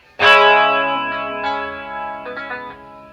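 Short electric guitar flourish from a guitar lesson, a quick finger-played flare that rings out with chorus-like shimmer and sustain, then a few lighter plucked notes near the end, close and alone without talk.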